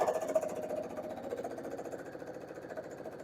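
Home sewing machine doing free motion quilting, a fast steady needle chatter with a mechanical whir, moderately loud and close, running continuously without talk.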